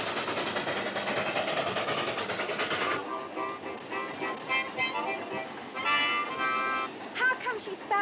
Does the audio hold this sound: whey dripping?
no